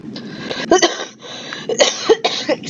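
Several harsh coughs come in close, loud bursts, a cluster early on and another run near the end, with no talk over them.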